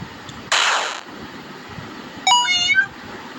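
A cat meows once, fairly close and clear, after a brief burst of broadband noise, with no talk over it.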